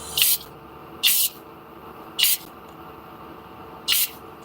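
Brake parts cleaner is sprayed in four short, sharp hissing bursts from an aerosol can at irregular intervals, close to the microphone, with quiet background noise between sprays.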